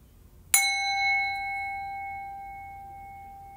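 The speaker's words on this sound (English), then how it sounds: "I'm gonna ring my bell. It might be kind of loud," A single bell is struck once, giving a bright, clear ding that rings on and decays slowly over several seconds in an otherwise quiet room.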